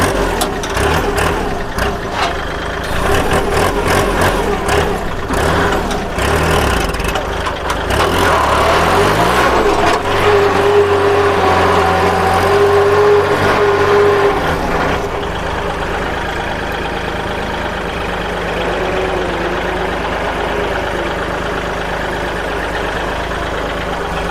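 The engine of a used Kubota or Iseki walk-behind tractor runs continuously and close, a loud, steady chugging idle whose tone shifts in load and pitch a few times along the way.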